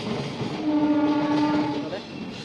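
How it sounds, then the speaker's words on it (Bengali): An EMU local train arriving at Santragachi station, heard from another moving train as a brief horn blast rises over the rumble and rail clatter, fairly close and loud. "এই যে ট্রেনটা আসছে না, এটা কিন্তু হাওড়ার দিক থেকে আসছে পুরোপুরি"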